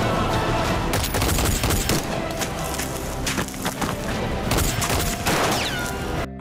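Rapid bursts of gunfire fill a tense police shootout in a Filipino TV action drama, loud overlapping shots and automatic fire crackling continuously with booming impacts throughout.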